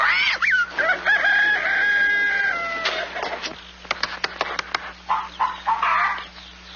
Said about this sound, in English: I'm going to tap every one of those hens till I find the one that lays the golden egg.